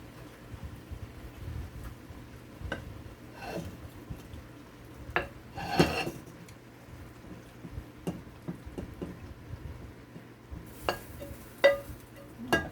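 Shrimp stirred through fried rice in a pan: soft scraping and clinking of utensil against the pan with intermittent light sizzle, fairly faint and close, no talking.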